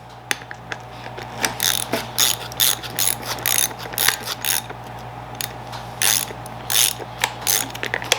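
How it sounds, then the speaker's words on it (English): A socket ratchet clicks in short bursts as it tightens the bolt on the pad of a random orbital hook-and-loop sander, repeated strokes close by over a steady low hum, with no talk. "I'm just going to go ahead and tighten this up."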